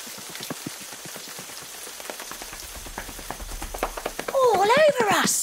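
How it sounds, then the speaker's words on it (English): Light rain patters steadily on an outdoor surface in a kids' yoga adventure, soft scattered drops through most of the stretch, with a voice swooping up and down near the end. "Ah, but it starts to rain."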